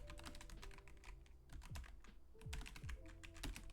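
Rapid keyboard typing on a computer during a development work session, with a steady rattle of key clicks throughout and a few heavier thumps, close and fairly quiet.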